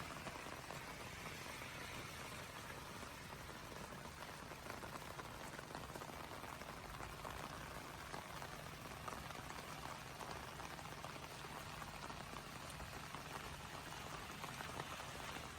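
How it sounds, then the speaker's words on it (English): Rainwater from half a house roof runs through a gutter downspout, making a steady, even rushing and splattering with no breaks. It is fairly faint throughout. "This is all the water coming from one half of the roof on this side."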